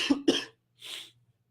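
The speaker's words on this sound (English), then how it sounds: "Again, I apologize for the coughing." A person gives two sharp, close coughs in quick succession, followed by a softer breathy throat clearing, with silence around them.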